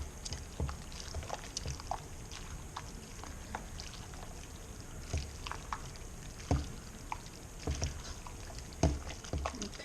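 Hot egg noodles stirred into a cream cheese mixture for a noodle kugel, giving soft wet squelching and sticky patter with occasional louder clicks of the spoon against the bowl, steady and close.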